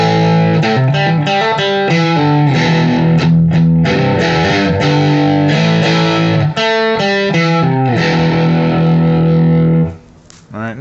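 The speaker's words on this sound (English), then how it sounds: "We're going to go to the crunch. These are all the basic standard settings without any additional effects on them." Electric guitar played through an amplifier on its basic crunch setting with no added effects, giving a steady, loud run of distorted chords and riffs that drops out abruptly near the end.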